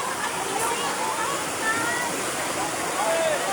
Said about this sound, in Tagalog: Kusog na jud kaing baha.